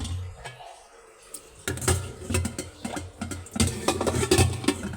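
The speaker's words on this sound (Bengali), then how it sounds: "হাঁড়ি পাতিলগুলো একটু করে নেব, পানি ঝরিয়ে নেব।" Metal pots and pans are handled and set down to drain water in a household, several loud clanks and clatters in irregular bursts with scraping between them.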